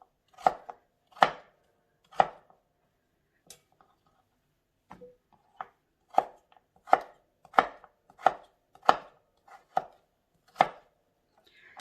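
Pumpkin is chopped on a board with a knife, a series of sharp, close knocks coming in uneven clusters with brief pauses between, the strikes quickening toward the end, no talking.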